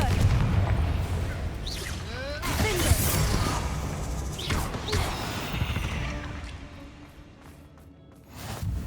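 Confringo spell explosions in the Hogwarts Legacy video game on PS5 make repeated booming, crashing blasts with shattering debris. They are loud and dense at first, then fade into a rumbling tail.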